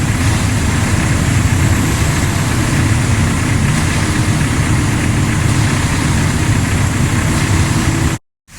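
Concrete mixer truck engine running steadily at a house foundation pour, a loud continuous low diesel rumble with a drum churning, cutting out abruptly near the end.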